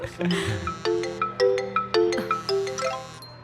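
A phone ringtone plays a bright, repeating chime melody in a classroom, clear and fairly close, with voices murmuring under it at the start.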